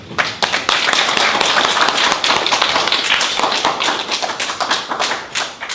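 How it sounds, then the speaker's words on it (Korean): A lecture hall audience welcomes a culture critic with loud, sustained clapping, many hands together in a dense, even wave that swells at the start and ebbs slightly toward the end. "큰 박수로 환영 부탁드립니다"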